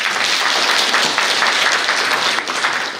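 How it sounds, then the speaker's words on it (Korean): Audience applause at a blockchain and AI summit session, welcoming a speaker after an introduction: dense, steady clapping from a hall crowd, loud and sustained without a break, no voices over it. "박수로 환영해 주시면 고맙겠습니다."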